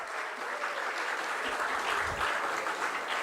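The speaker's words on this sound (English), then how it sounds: "Let's give it for Sir a big round of applause for having such a wonderful session." An audience applauds at the close of a sponsored academic session on AI in research, producing a dense, steady clapping throughout from a hall full of people, with no speech.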